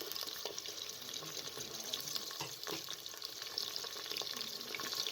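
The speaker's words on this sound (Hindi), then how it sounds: "गोश्त को उस वक्त तक भूनें जब तक इसका कलर चेंज ना हो जाए" Meat browning in hot oil in a pressure cooker with cinnamon pieces and onion, giving a steady close sizzle and crackle throughout, with faint stirring and watery hiss and no speech.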